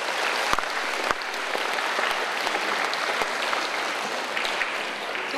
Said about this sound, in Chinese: 在此，我提议以热烈的掌声对周华盛先生表示崇高的敬意和衷心的感谢